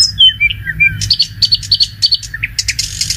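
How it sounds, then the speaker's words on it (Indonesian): Small birds chirp and tweet in a clear, close series of quick, high calls, repeated in bursts throughout with no talking. "Ada suara burung."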